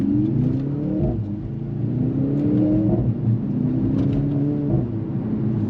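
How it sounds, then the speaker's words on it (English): A 2024 Mercedes-AMG C63 S E-Performance sedan accelerates hard, its engine rising in pitch through several paddle-shifted gear changes, each marked by a brief drop before the revs climb again, loud and close. "there is such a kick from the paddle shifters as the gear shifts"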